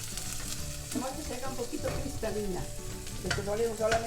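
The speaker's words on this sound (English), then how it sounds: "we have some oil that we left in here, and we're gonna add some onion" Chopped onion frying in leftover oil in a pan while being chili-quilts prep, a steady close sizzle with stirring scrapes and clinks throughout, no talking.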